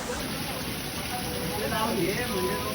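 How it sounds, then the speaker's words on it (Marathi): Heavy rain pours steadily at the Sharada Ganapati pandal in Pune's Mandai market, a dense hiss throughout, with a voice talking briefly over it midway. "आवाज तुम्हाला येत नसेल जास्त, कारण इथं पाऊस आहे जोरात"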